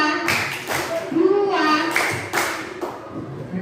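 Children clap in short, separated bursts during a classroom counting game, with a voice talking over and between the claps.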